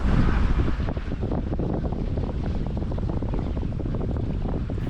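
Strong wind buffets a sailboat under mainsail at sea near Catalina Island, a loud continuous roar of gusts and microphone rumble with water rushing beneath, steady throughout with no voices.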